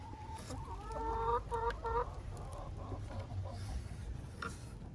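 Backyard chickens cluck and chatter in short, overlapping calls, fairly close, over a steady low outdoor rumble, with no one speaking.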